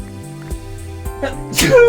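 A single loud human sneeze bursts out near the end over the steady background music and sound effects of a Minecraft game.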